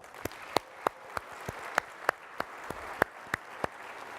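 Sparse, evenly spaced claps at a gala honouring a Nashville hobby shop crew, single sharp hand claps repeating at a steady rhythm over a soft murmur of clapping.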